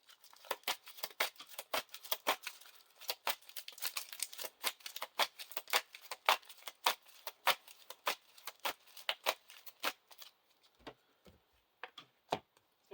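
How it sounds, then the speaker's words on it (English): Cards from the Lord of the Rings card game are handled and shuffled into a deck, giving a quick run of crisp, dry clicks and snaps, close and fairly quiet, with no talk. "You have to shuffle the encounter discard pile into the encounter deck."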